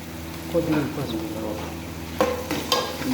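Onions fry in a pan as the base for a goat tripe and tomato curry, with a steady close sizzle broken by a few louder stirring scrapes.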